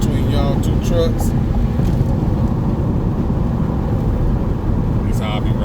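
A car drives through traffic and squeezes in between two trucks, with a steady low road and engine rumble and wind noise throughout, while someone talks over it.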